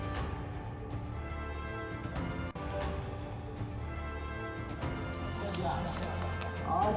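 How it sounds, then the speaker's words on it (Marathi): Bullock cart race in Rajapur, with fast, steady running hooves rattling over a loud, dense mix of crowd noise and voices. "राजापूरमध्ये बैलगाडा शर्यतीचा थरार"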